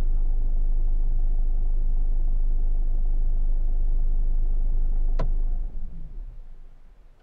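A Mercedes-Benz CLA 200 CDI diesel engine runs with a steady low idle rumble, close and loud, with a single sharp click near the end before the sound drops away.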